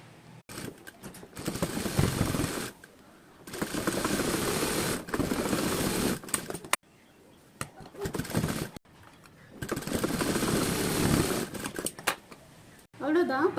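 Domestic sewing machine stitching piping onto the puff sleeve of a blouse, running in several long bursts separated by short pauses, close and steady.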